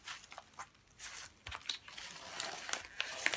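A paper advertising leaflet crinkles and rustles as it is folded around freshly picked holy basil and other herbs packed for a customer, close and dry with irregular crackling bursts and no talking.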